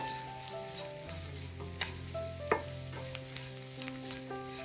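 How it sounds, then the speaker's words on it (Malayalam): Chili powder sizzles steadily in a hot pan and is stirred, giving a close, continuous frying hiss with occasional light scrapes and ticks of the spoon against the pan. "വെറും മുളക് പൊടി മാത്രമാണ് ചേർത്ത് കൊടുക്കുന്നത് ജസ്റ്റ് ഒന്ന് ഇളക്കി കൊടുക്കാം"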